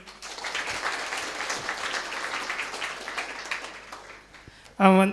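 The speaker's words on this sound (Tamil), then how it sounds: "உனக்கு ஒரு பலத்த கைத்தட்டல்." Dense, steady applause from an audience at a freshers day for a hotel management institute, honouring a student, fills nearly the whole stretch before a loud voice cuts in sharply at the very end.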